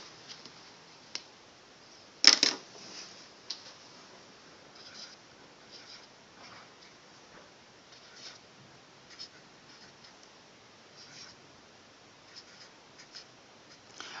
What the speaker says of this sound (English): first I'm going to write up all the numbers here.